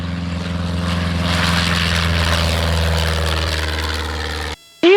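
Propeller engine of a 1946 Luscombe light airplane heard from inside the cockpit: a loud, steady droning buzz with a pulsing rotor beat throughout, then a sudden drop to quiet near the end.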